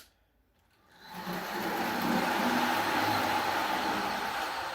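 An S-Class model train locomotive pulling five cars starts up after a quiet moment, then a steady, fairly loud mechanical whir and hum of the motor and wheels on track continues without a break.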